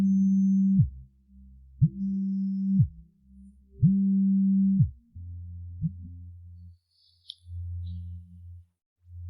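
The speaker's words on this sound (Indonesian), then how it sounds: "Telepon siapa? Kenapa tidak diangkat?" An unanswered phone rings with low, humming electronic tones. Three long even pulses are followed by shorter, deeper buzzes, and no voices are heard over them.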